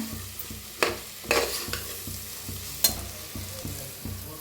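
Masala roasting in a pan for aloo matar, a low crackling sizzle under repeated scraping strokes of a spoon and a few sharper knocks against the pan, close and steady with no talk.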